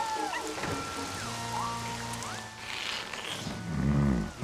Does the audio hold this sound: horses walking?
no